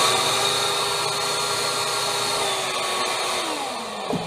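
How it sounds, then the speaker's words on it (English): A small mini shop vac runs steadily and fairly loud with a constant motor whine, its pitch dropping slightly near the end as it begins to wind down, with no talking. "it does have the power to vacuum up stuff and has some sucking power to it"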